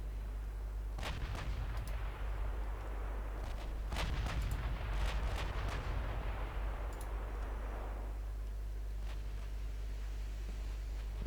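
Heavy battleship guns boom from naval gunfire in a strategy game, several deep blasts and sharp reports rolling over a constant low engine drone, with no voices.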